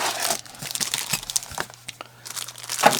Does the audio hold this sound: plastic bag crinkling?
yes